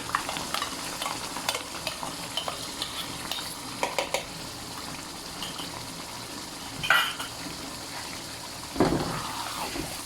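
Chicken karahi with whisked yogurt, mashed tomato and spice masala is stirred in a frying pan, with a steady sizzle under repeated scraping and clattering of a utensil, plus a couple of louder knocks against the pan.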